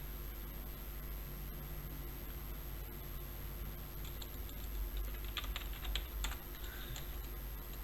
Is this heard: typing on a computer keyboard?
yes